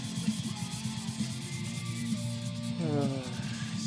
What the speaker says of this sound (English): Sanding with little bits of wet sandpaper.